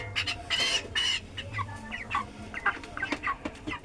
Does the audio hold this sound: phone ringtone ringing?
no